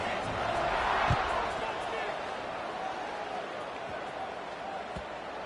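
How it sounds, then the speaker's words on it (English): Crowd buzzing in an American football video game, a steady broadband roar of murmur that holds evenly throughout with a few faint thumps, and no clear speech on top. "this crowd is buzzing after that last score"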